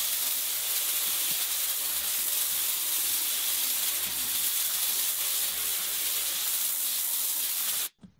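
Steady, loud hiss of compressed air from a tornado gun used in car detailing, a continuous broadband rush running without break for about eight seconds before cutting off abruptly.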